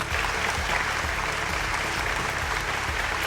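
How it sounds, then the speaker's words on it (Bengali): An audience at an award show claps loudly and steadily throughout, a dense continuous burst of applause with no voices standing out. "একটা জোরে হাততালি নিজেদের জন্য।"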